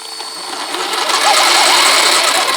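A motor on an RC monster truck styled as Optimus Prime revs up as its back tires spin in thick mud, a rising whine with wet churning, loud and close.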